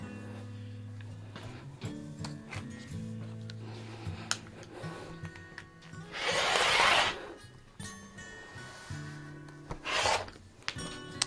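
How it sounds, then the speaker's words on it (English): A rotary cutter slicing quilt fabric straight along a long ruler: faint scraping and rubbing sounds, with two stronger rasping cuts in the middle and near the end, with no talking. "So I'm going to get my longest ruler that I have and try to get this cut nice and straight."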